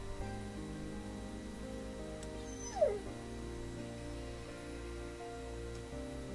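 Dogs whimper and whine in the Little Busters visual novel, a brief high yip rising sharply midway over a steady low musical bed, with no bark standing out clearly.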